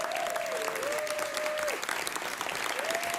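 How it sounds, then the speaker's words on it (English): An audience at a live show claps steadily throughout, a dense, continuous wash of applause with faint whistles rising above it. "give a big round of applause to Joan Martinez"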